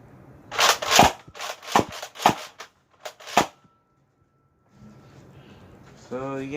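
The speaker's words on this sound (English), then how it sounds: "Now I can do this once, or" A Nerf Rival Artemis XVII-3000 blaster slam fires in a rapid run of about six sharp snapping shots, close and loud, followed by a pause and a brief voice at the end.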